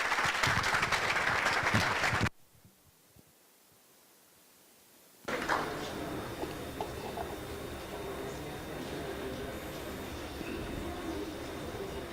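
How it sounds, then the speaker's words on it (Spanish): Strong applause from a conference audience at an international dental stem cell congress, loud and dense at first, then breaking off into near silence before a second, steadier wave of clapping and room noise returns. "que le dieran un fuerte aplauso para iniciar"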